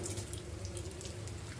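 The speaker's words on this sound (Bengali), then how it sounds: "চালটা দিয়ে দিয়েছি, এখানে ফুটছে।" Rice boiling in a pot for khichuri, a soft, quiet bubbling and simmering with faint liquid gurgles, steady and close.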